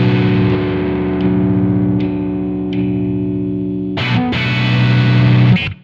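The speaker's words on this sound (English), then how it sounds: "Let's hear it again on just a sustained chord." A heavily distorted electric guitar fitted with a PHAT-O-Caster passive boost mod rings out a long sustained chord, then is restruck and held again near the end, loud and up front.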